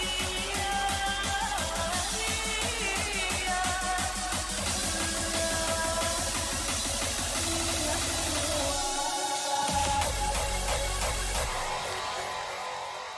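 A dense electronic music track plays in full mix with a vocal section, steady thumping beat and layered synths, loud and continuous with a brief low-end cutoff near the middle.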